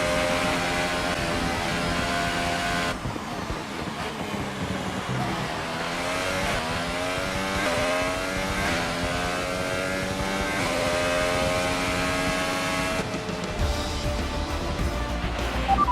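An F1 race car on its final lap at the Bahrain Grand Prix in the F1 2018 video game, a loud, continuous engine whine that climbs and drops repeatedly through gear shifts.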